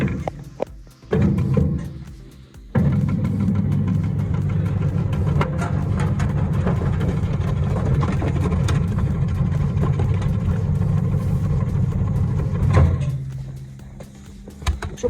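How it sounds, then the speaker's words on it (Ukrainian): An STvega Combo industrial vegetable cutter slices beetroot with a steady, loud motor whir lasting several seconds, starting abruptly after a brief pause and winding down near the end. "Машина комбо нарізаємо буряк."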